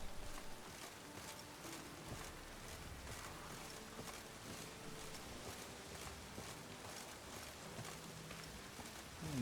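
Steady rain patters continuously on a surface in the video game The Witcher 3: Wild Hunt, a soft even hiss with scattered drop taps throughout, with no talking.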